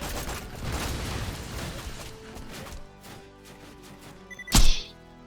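Gunfire aimed at incoming missiles in the video game Borderlands, played as Maya the Siren, comes as a string of thumping shots, then goes quieter before one loud, sharp impact near the end.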